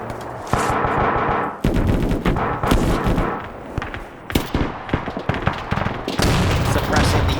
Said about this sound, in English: Now you got the 240 gunners opening up.